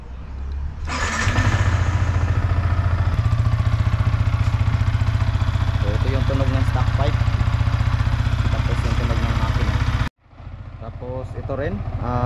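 A Yamaha MT-15 motorcycle with its stock exhaust pipe starts up and settles into a loud, steady idle close by, with a low rumbling drone that cuts out abruptly near the end, followed by a quieter mechanical tail.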